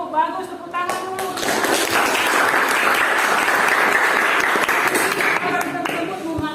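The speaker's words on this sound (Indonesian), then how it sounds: "Bagus, tepuk tangan dulu" Classroom applause breaks out for a student's answer, a dense, steady wash of many hands clapping close by that swells quickly and holds loud throughout, with a teacher's voice briefly audible at the start.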